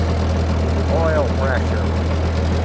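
A Ford 8N tractor engine idles while warming up, and the engine has a slight knock. It makes a constant low drone throughout while a person speaks a word over it.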